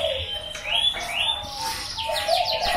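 Zebra doves (perkutut) calling at a bird breeding farm, repeated chirping and cooing notes from several birds overlapping at close to mid distance, with faint background chatter.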